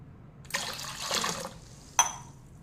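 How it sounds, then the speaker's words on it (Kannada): Two glasses of water are poured onto smashed leaves for a herbal juice: a burst of splashing pour lasting about a second, followed by a single sharp clink of a vessel, in a quiet room. "ಇನ್ನು ಇದಕ್ಕೆ 2 ಗ್ಲಾಸ್ ನೀರು ಹಾಕಿ ಒಂದು 5 ನಿಮಿಷ ಬಿಡ್ತೇನೆ"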